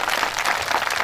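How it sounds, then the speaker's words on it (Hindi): Audience applause at a Shrimad Bhagwat Katha gathering in Nayapurva, Pratapgarh, welcoming the Kesarwani family: dense, steady clapping from many hands that fills the whole short moment at an even loudness, with no voices over it. "इसलिए केसरवाणी परिवार को जोरदार तालियों से स्वागत है"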